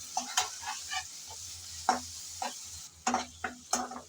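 Ginger-garlic paste and onions stir-fried in a pan for chickpea and chicken curry, with a low steady sizzle broken by several sharp scraping stirs of a spatula, close and alone without talk.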